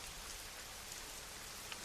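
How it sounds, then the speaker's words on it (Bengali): Heavy rain pours in a thick, dense downpour under a darkening storm sky, a continuous close hiss with no breaks and a single faint drip standing out near the end. "আরও জোরে, আরও ঘন ধারায় পড়ছে বৃষ্টি।"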